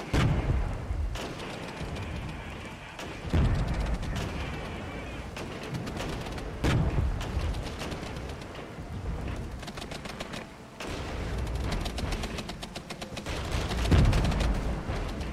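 Gunfire and explosions in the Regiments war game, with repeated rifle and machine-gun bursts and heavy booming blasts at intervals, loud and continuous over a battle din.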